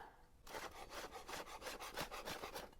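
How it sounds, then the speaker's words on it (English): Quick rhythmic strokes of a knife on a wooden board chopping a small pile of fresh herb leaves, a steady run of close, crisp cuts at even tempo with no voice over them. "we're gonna make this into a pretty little pile, and I'm gonna chop it up"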